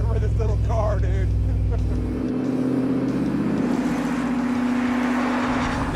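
A replica Shelby Cobra roadster with a Ford Coyote V8 accelerates hard, heard from inside as a loud, deep engine roar that climbs in pitch, with people talking and whooping over it.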